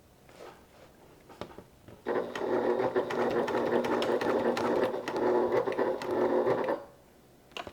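A sewing machine stitches a seam on a crossbody bag in one steady, close run of about five seconds, starting and stopping cleanly with quiet before and after.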